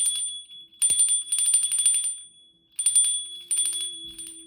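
A small bell, partly stuck, rings in several quick bursts of rapid metallic trilling, separated by brief pauses, close and fairly loud.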